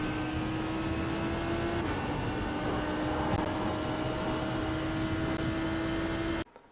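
A Lamborghini Huracan GT3 EVO laps Road Atlanta in the iRacing sim, its engine holding a steady high drone with a brief gear-change dip before the sound cuts off abruptly near the end.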